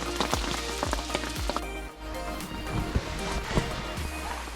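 Rain patters steadily on a carp fishing bivvy, with sharp close drips and taps striking the canvas at irregular intervals over a constant hiss.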